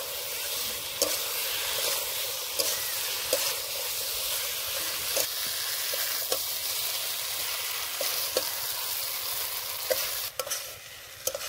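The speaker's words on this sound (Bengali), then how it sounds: "এবার দিয়ে দেবো ভেজে রাখা সয়াবিন আর আলু। আবারও কষে নেব।" Fried soybean chunks and potatoes sautéed in spice paste for an egg soybean curry, a steady close sizzle with repeated spatula scrapes and stirring knocks throughout, no voices.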